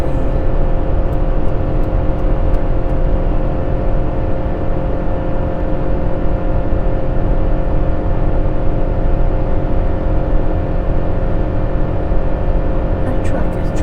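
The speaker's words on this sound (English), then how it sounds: "That truck is trying so hard." A vehicle engine drones loudly and steadily under load, a constant heavy hum with road noise throughout.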